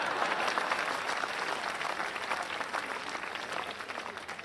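An audience applauds loudly with a dense, continuous patter of clapping that gradually softens toward the end, with no voices on top.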